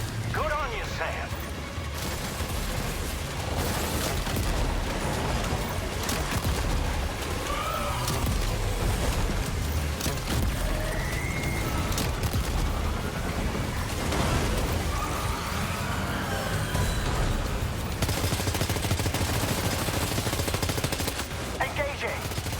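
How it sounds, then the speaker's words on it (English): Sustained gunfire and explosive crashes from a Death Stranding 2 battle against a large machine, loud and dense throughout, with voices talking over the constant shooting. "Opening fire now."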